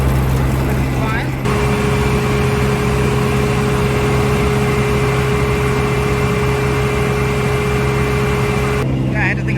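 The engine of a John Deere 4400 combine runs steadily at just under 1,000 RPM, a loud, continuous drone with an even mechanical whine, close by and unbroken through the whole stretch.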